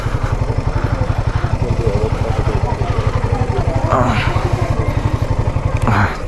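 A Royal Enfield Himalayan 452 motorcycle idles while being parked at a roadside junction, its engine thumping in a fast, even pulse close by, with a brief blip near the end and a voice speaking over it.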